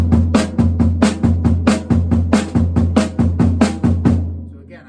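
Bass drum double strokes fall between the hands in a steady drum triplet pattern, with close, loud repeated hits and cymbal wash that ring out at the end.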